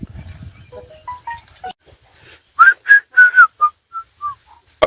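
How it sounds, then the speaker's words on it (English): A person whistles to halt an ox team pulling a plough on a farm: a run of loud, sharp rising whistles, several in quick succession, then softer trailing notes, over faint earlier murmur. "When I whistle, they stop."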